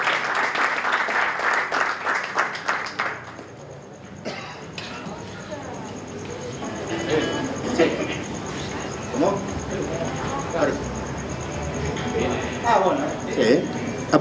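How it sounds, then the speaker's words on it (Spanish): An audience at a jazz trio concert claps for about three seconds, then the applause fades and a voice talks over light background noise from the room. "un gran aplauso"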